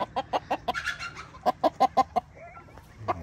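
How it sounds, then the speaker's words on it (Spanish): A rooster clucks in a quick series of sharp, nearby bursts, with a short pause midway and one last cluck near the end. "Bonito ese gallo, Juanito, nomás."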